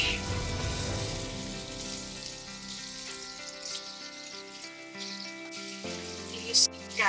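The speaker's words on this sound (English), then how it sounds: "You see guys how I fry them?" Seasoned fish fries in a pan, giving a steady close crackling sizzle that fades slightly, with a few brief clinks near the end.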